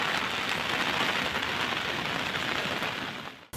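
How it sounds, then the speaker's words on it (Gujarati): Heavy monsoon rain pours down steadily across Junagadh, a dense continuous roar of falling water that stays loud and even throughout before cutting off abruptly at the end, with no voices. "જૂનાગઢ જિલ્લામાં સાર્વત્રિક મેઘમહેર થઈ છે"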